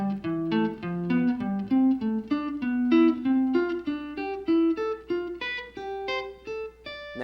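A guitar plays a scale sequence in perfect fourths, plucked note pairs stepping steadily upward then settling, clean and moderately quiet, with no voices.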